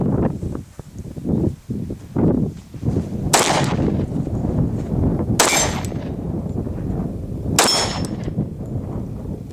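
Three sharp, loud gunshots ring out a couple of seconds apart from a Ruger SR1911 Commander pistol firing 230 grain Winchester white box ammunition, each followed by a metallic ring and the clatter of brass, over outdoor rustling.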